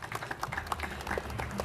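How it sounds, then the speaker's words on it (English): Applause from an audience at a Goan community festival, welcoming a new vice president; brief, moderate clapping with scattered claps, fairly distant in a hall. "Give him a big round of applause as well, please, for taking up the position."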